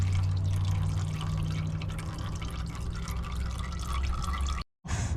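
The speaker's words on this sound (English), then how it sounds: "So we'll get as much fluid out of here as we can" Transmission fluid from a 727 transmission pan on a Dodge D150 trickles and splashes steadily into a container, close by, over a low background hum, with a brief dropout near the end.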